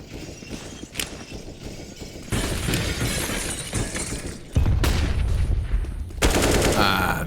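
Gunfire crackles through a Counter-Strike match on the map Vertigo, with dense rifle bursts and shattering impacts in loud overlapping sections that shift abruptly as the firefight toward mid unfolds.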